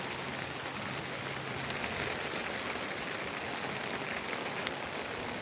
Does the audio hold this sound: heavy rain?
yes